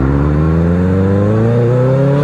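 A loud motorcycle engine revs steadily, its pitch climbing smoothly over about two seconds with a thick, buzzing harmonic tone and no voices.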